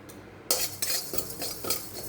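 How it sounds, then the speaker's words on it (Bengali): Panch phoron spices dry-roasting in a lightly heated kadai, stirred with a metal spoon that scrapes and clinks against the pan in several quick bursts over a low background hiss. "কড়াইটা হালকা গরম হয়ে গেছে, এখানে আমি অল্প 5 ফোড়ন শুকনো খোলায় আমি ভেজে উঠিয়ে নেব"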